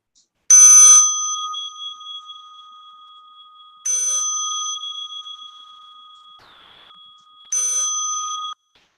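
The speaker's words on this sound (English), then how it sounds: "As you listen to the bell," Meditation bell struck three times at even intervals, each a bright, clear metallic ring with a sharp attack that slowly fades into silence before the next strike, heard alone without talk.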